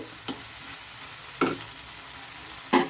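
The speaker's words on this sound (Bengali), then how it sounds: "মশলা কষানোর সঙ্গে সঙ্গে চালটাও আমার সুন্দর ভাজা হয়ে যাচ্ছে" Rice being fried and stirred with spices in a pan for a Bengali banana blossom and fragrant rice dish, a steady close sizzle broken by three sharp scraping stirs, with no voices.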